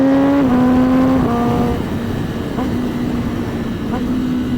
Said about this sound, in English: So I'm in 6, and when I downshift now,